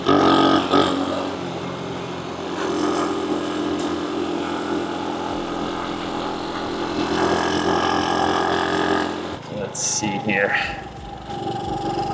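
Motorbike engine droning steadily while riding along back roads in Japan, the broad engine and wind noise holding loud and continuous with a brief higher whine near the end.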